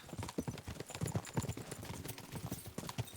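Rapid, uneven hoofbeats clatter close by in a video game, several horses galloping together in a quick, rolling clip-clop rhythm during a horse race.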